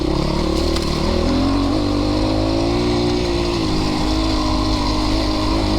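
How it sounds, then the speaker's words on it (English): Christini AWD 250DS all-wheel-drive dirt bike engine running steadily close by, a loud continuous four-stroke drone with a slight rise in revs partway through, alone without talk. "It's an all-wheel drive dirt bike. Point it in the direction and pull the lever."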